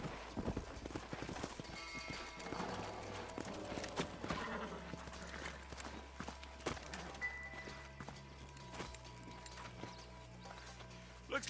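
Horses in the Red Dead Redemption video game walking with hollow clip-clop hooves and an occasional whinny, fairly faint under game ambience and music.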